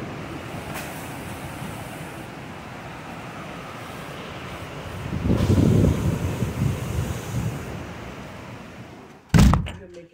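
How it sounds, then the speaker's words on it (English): Strong Category 4 hurricane wind during Hurricane Ian roars loudly and steadily against the microphone, surging midway, with a sharp thump near the end. "This is a hard wind."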